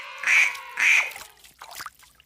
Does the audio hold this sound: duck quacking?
yes